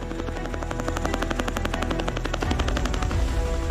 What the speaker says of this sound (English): Their vehicle of choice is the CH-47 Chinook.